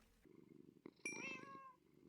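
A cat in Minecraft gives a soft purring rumble followed by a clear, rising meow, close and quiet, with no talk over it.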